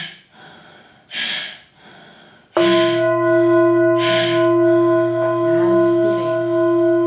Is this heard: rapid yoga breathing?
yes